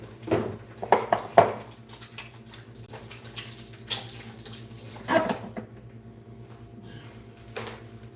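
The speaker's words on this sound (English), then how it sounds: "I am going to wash my hands" Water runs from a tap into a sink as hands are washed, a steady splashing stream broken by a few louder splashes and faint clinks, close by with no talk.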